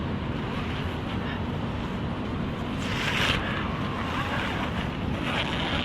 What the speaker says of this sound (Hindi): काफ़ी तेज क्या बोलते हैं, शीतलहरी, हवा चल रहा है।